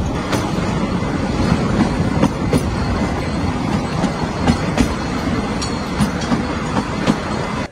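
A colonial-era passenger train runs on rails nearby, with a steady loud rumble and repeated clickety-clack wheel clicks over the track joints, and no voices.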